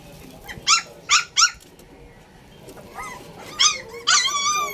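Puppies shut inside a locked house yip and whimper in short high bursts, a quick cluster of three cries followed by a pause and then more whining calls, close and clear.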